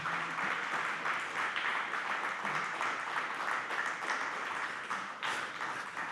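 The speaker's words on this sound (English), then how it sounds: "could you keep the applause going for Morris Williams?" Audience at a city council health committee meeting applauding continuously, a steady wash of many hands clapping at moderate distance, with no voices over it.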